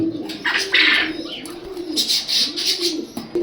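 A Martin racer pigeon coos close by in repeated soft, throaty phrases, with rustling and a few chirps mixed in.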